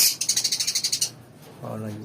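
Pet lovebirds chirp close by in a rapid, evenly spaced burst of about a dozen high, sharp notes, followed by a brief lull and then a voice.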